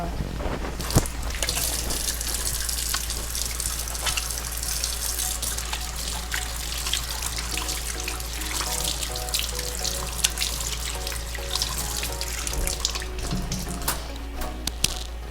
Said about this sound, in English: So the first thing I do is to wash my hands.